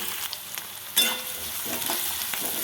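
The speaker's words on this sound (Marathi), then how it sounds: "आता कांदा टाकते मी याच्यामध्ये आणि चांगला परतून घेते" Chopped onion sizzling as it fries in a generous amount of hot oil in a home kitchen, a steady hiss with a sharp burst as the onion hits the pan, then occasional stirring scrapes.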